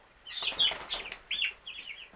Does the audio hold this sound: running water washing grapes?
no